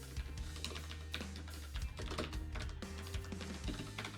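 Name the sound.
typing on a computer keyboard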